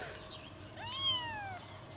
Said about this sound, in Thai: เจ้าแมวเหมียวน่ารักมากตัวเล็กน่ารักมาก